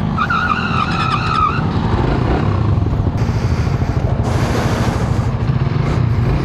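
Raider Blade motorcycle on a test ride, its engine revving briefly at the start and then buried under loud, continuous roaring wind and road rush.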